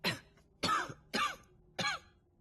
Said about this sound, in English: she lets loose another fitting of cough, loud enough this time to echo in the small dwelling